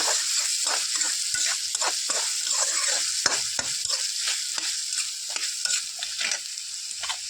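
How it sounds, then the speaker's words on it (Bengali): Ginger sizzles steadily in hot oil in a pan while a utensil stirs it, with frequent light scraping clicks over a constant frying hiss and no talking. "কিছু সময় ভাজি থাকিলোঁ আদাৰ যাতে গন্ধটো গুচি যায়"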